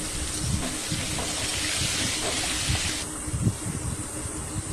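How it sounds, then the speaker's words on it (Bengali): Potatoes fry for a meat curry in a home kitchen, giving a steady, fairly loud sizzling hiss throughout, with soft clatter and bumps of cooking underneath. "এরপর এইদিকে মাংসের আলুগুলো ভাজা হচ্ছে।"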